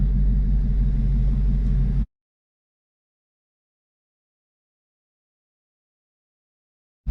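A Ford Mustang GT350 with a Tremec TR-3160 manual transmission idles in gear with the rear wheels turning, a deep, steady engine rumble that cuts off after two seconds and resumes briefly at the end.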